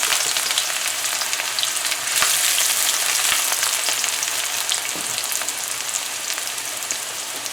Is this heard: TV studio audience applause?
no